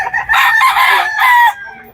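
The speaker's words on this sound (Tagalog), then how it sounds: "Ang background natin ay mga manok." Chickens and roosters at the Bocaue pet market, with a loud, close rooster crowing in two strained bursts and clucking fowl around it.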